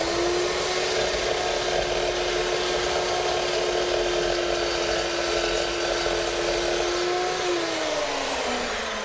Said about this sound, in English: I'm using a blade specifically ground for aluminum cutting.